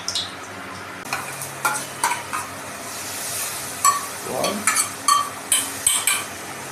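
White cooking oil heats in a kadai for paneer butter masala, with a faint sizzle beneath a run of clinks and scraping stirs of a utensil against the metal pan, close and fairly loud.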